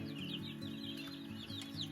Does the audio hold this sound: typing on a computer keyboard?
no